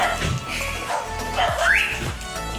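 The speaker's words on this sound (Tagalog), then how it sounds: "pasensya na lang po yung mga aso" Dogs whimper and yip close by, with short excited barks and whines running together over a couple of seconds.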